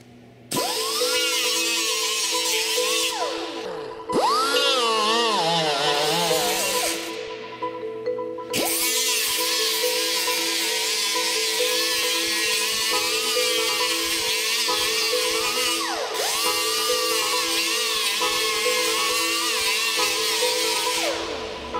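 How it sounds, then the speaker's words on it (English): A professional right angle grinder with 36 grit sandpaper sands epoxy filler on a boat, whining loudly and steadily for a long stretch, with its pitch dipping under load and a few brief pauses. "you could use one of these nicer professional right angle grinders"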